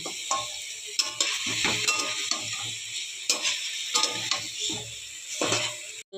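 Chicken pieces seasoned with turmeric and salt sizzle in hot oil while being stirred, a steady frying hiss broken by repeated scraping and clinking strokes of a spatula against the pan.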